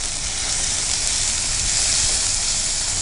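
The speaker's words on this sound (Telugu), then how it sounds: "కుక్ అయ్యేంత వరకు ఫ్రై చేసుకుంటే సరిపోతుంది" Chicken pieces seasoned with salt and turmeric sizzle steadily while frying in a pan for a spicy sesame chicken dish, a constant bright hiss with no pauses or talk.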